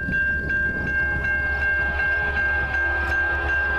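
A southbound CN freight train passes close by in a steady loud roar, with a sustained horn-like tone held throughout and repeated rhythmic clicks of wheels over rail joints; no one speaks.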